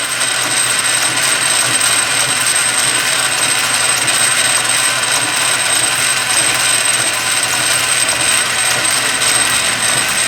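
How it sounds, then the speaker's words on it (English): Steady machining noise from a South Bend lathe starting a hole with a center drill, a continuous grinding whir with a high whine running throughout, loud and close with no pauses or voices. "I always start out with a center drill"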